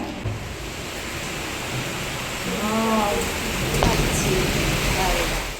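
Rain falls outside on a rainy morning as a steady, even hiss that swells slightly toward the middle, with a brief faint voice-like sound partway through.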